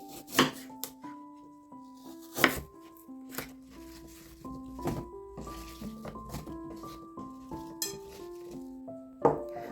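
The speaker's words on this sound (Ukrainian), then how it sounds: "Беремо 4 невеликих яблука і очищаємо їх від серединки. Нарізаємо їх дольками." A sharp knife chops small cored apples into wedges on a board, several crisp strikes spread unevenly over the clip, heard beneath gentle background music.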